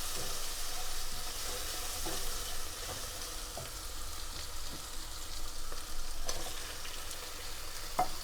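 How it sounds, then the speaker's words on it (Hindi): Tomatoes frying with onion and ginger-garlic paste in a karahi produce a low, steady sizzle broken by periodic stirring clicks and scrapes, fairly quiet and close, without talk. "टमाटरों को डाल के हम अच्छी तरह से भूनेंगे"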